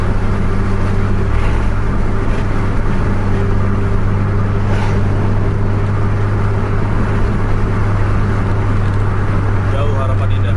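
An Armada Indah CR7 bus accelerating at full throttle at around 100 km per hour, with a steady, loud engine drone and road rumble that stays constant throughout, and a person talking over it.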